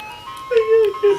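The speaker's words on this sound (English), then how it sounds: "it was like the ice cream truck noise" A short electronic ice cream truck jingle in a snowy outdoor setting in winter, a few thin tonal notes rising and holding, fairly close and loud, with the melody only partly heard over a brief moment.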